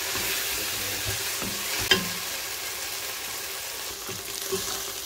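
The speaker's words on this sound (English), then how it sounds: "So I'll give my onions some time to cook until they turn golden brown. So keep stirring my onions." Onions frying and being stirred in a pan while cooking for pilau, a steady soft sizzle with a couple of brief spoon or utensil clicks, close and alone without talk.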